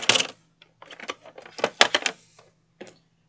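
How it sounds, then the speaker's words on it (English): Scissors or a paper trimmer cutting through a cardstock sheet of cut-apart cards, a string of close, crisp snips and clicks in uneven bursts with short pauses between, fairly quiet with no voices. "I'm going to take this set of cut aparts and cut it"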